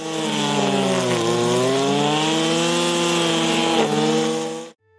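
Gas-powered brush cutter fitted with a nylon rope cutting head of 2.7 to 3 mm thickness, engine droning loud and close at high revs with a slight pitch dip and rise, then shutting off abruptly.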